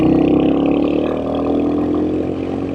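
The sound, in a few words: Royal Enfield Hunter 350 motorcycle engine accelerating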